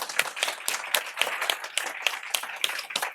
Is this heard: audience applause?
yes